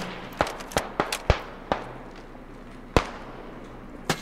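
Several sharp blasts from grenades and gunfire in the World War I shooter game Beyond the Wire, a quick cluster of bangs followed after a pause by one louder crack and then a fainter one.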